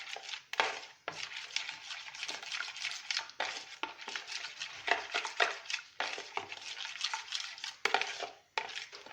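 Carrots being stirred into tamarind sauce in a pan: irregular scraping and clattering of a utensil against the cookware, with bursts of wet stirring that pause briefly and resume throughout.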